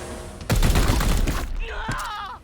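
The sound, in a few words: gunfire in video game Warhammer 40,000: Chaos Gate - Daemonhunters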